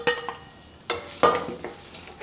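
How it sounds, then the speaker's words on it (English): Cubes of yam fry in aromatic shallot oil, giving a soft, steady sizzle broken by a few louder clatters as they are stirred in the pan. "First, fry the yam."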